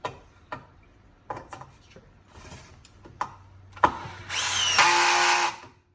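A drill driver sinks a screw into wood, beginning with scattered clicks and taps, then a loud, steady whirring motor that bogs slightly as resistance builds before cutting off.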